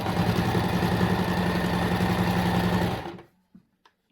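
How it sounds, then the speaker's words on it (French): An electric sewing machine stitching a fabric face mask runs in a fast, steady whir for about three seconds, then stops, followed by a couple of faint clicks. "Et là, tu couds tout le long."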